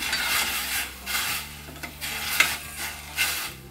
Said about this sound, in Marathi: चमच्याने फिरून घेऊयाला।